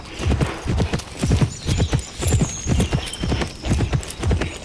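Galloping hooves in a horse racing video game pound out a fast, regular clip-clop rhythm, close and prominent throughout, with a faint whinny-like sound and no clear speech.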